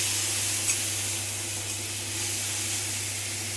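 Tomato paste added to onions frying with black cumin, giving a steady close sizzle and hiss of cooking in the pan that holds evenly throughout, with no talking.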